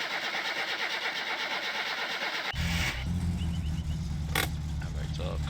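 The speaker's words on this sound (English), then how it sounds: "Just get this car started for now." An old car's engine in the video game My Summer Car cranks with the choke on and catches, settling into a loud, steady idle rumble close by after a stretch of ambient hum, with a brief rattle near the end.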